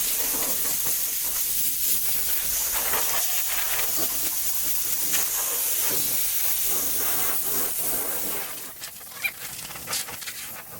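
Compressed air blasts snow off a surface in a loud, continuous hiss that holds steady for about eight seconds, then drops away into a few shorter bursts.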